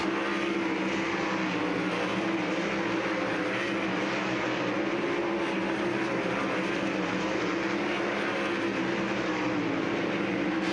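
Sprint cars at speed on the dirt oval of Lernerville Speedway produce a steady, fairly distant engine drone that holds evenly throughout, with no voices.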